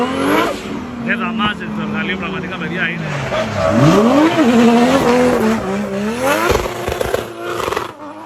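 A Ford Sierra with a Barra engine drives hard on a track in Greece, loud engine revving and shifting pitch with tyre squeal, and voices talking over it.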